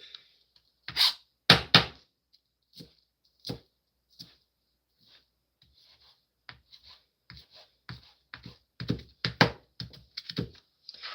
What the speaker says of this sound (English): let's cut this up